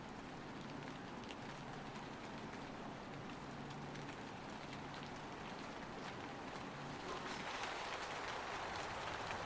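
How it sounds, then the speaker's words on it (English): Steady rain falls in a park at night, a soft, even patter and hiss that holds at low level throughout with no voices. "It's raining."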